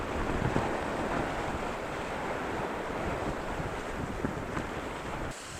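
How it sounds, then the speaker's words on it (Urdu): Surf rolls in where the Indus River meets the Arabian Sea at Kharochan in the Indus Delta, a constant rushing roar of waves mixed with buffeting wind noise on the microphone. "پر جو پانی یہاں ٹکرا رہا ہے تو وہ دریا کے پانی کو واپس دھکیل رہا ہے"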